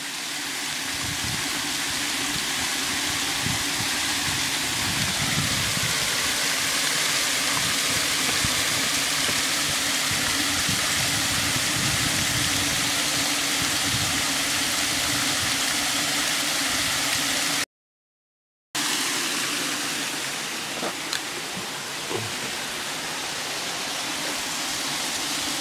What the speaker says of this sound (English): We're right where the waterfalls is.